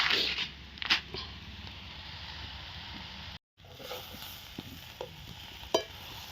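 Moth bean dal tipped into a pan of frying onions with turmeric, giving a soft steady sizzle with light stirring scrapes and a brief drop-out partway through.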